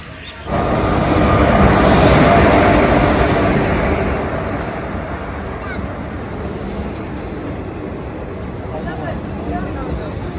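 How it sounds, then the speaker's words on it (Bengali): The Ganadevata Express pulls into Bolpur Shantiniketan station, its broad rumble swelling near and loud, then easing to a steady platform roar as the train slows, with a voice talking over it. "ট্রেন আমাদের এসে গেছে গণদেবতা এক্সপ্রেস"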